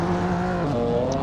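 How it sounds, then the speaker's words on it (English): Mercedes E63 and BMW M4 GTS at a drag racing event, heard as a loud, close engine roar whose pitch climbs and shifts through gear changes as the cars accelerate hard. "Race between the E63 and M4 GTS."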